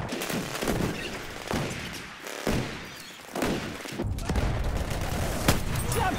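Rapid bursts of gunfire from the World War I shooter Battlefield 1, with repeated loud shots and fusillade-like volleys spread across the scene, some heavier thumps among them, and faint voices in the background.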